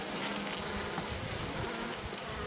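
Dense, steady buzzing of many honey bees up close at a small nucleus hive, a continuous droning hum with no pauses.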